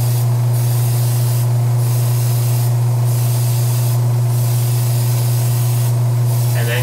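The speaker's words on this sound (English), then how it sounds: "laying down a heavier coat of paint." An airbrush sprays a heavier coat of paint over preshading in five even bursts, each a loud hiss over a constant low compressor hum, with no speech.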